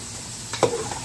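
Garlic sautéing with onion and chicken in a pot gives a short, close sizzle that swells briefly and fades, with no one talking.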